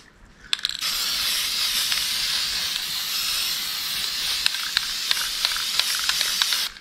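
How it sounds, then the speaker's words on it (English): Primer sprays from a can in a steady, close hiss lasting several seconds, broken by brief gaps and short clicking pops of the nozzle as a light coat goes onto a rusty piece. "I have this primer in front of me and I'm going to give it just a light coat."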